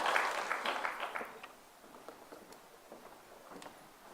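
A church congregation at a Korean Sunday service claps briefly, a burst of applause that is strongest at the start and quickly thins to a few scattered claps, faint and somewhat distant.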